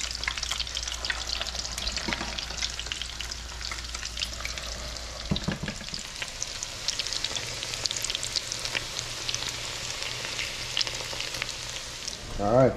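Seafood cakes of mixed fish and crab fry in a pan with a constant close sizzle and crackle, a brief clunk partway through, and no talking.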